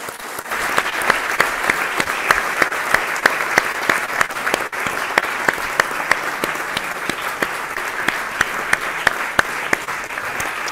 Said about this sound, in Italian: vi prego di raggrupparli tutti insieme in un ulteriore applauso di benvenuto